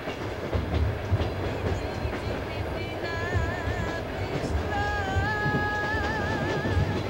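The Trans-Siberian Railway's train number 1 to Russia, around 1990, runs on the rails with a continuous rumbling clatter of wheels, joined midway by high wavering squealing tones, loud and close throughout.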